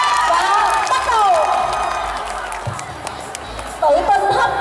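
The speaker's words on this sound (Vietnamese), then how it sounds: "xin các bạn hãy dành một tràng pháo tay thật lớn đi vũ cho" Crowd at a high school talent contest celebrating Lunar New Year cheers and claps loudly and continuously, with shouts and voices mixed throughout the din.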